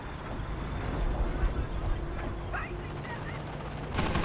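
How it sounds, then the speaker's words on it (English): Rapid gunfire from a strafing run in the Company of Heroes battle game, a dense rattling burst heard over battlefield rumble, engines and explosions, with a sharper blast near the end. "Another strafing run."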